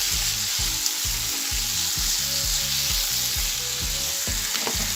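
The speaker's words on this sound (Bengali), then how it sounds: "এখন আমি কেটে রাখা বেগুনগুলো দিয়ে দিচ্ছি, দিয়ে আবারও সব কিছু খুব ভালো করে মিশিয়ে নিচ্ছি।" Chopped eggplant goes into cooked-down tomato in a pan and sizzles loudly and steadily while being stirred and mixed, for a dried loitta fish mash. The sound is close and continuous, with no talking.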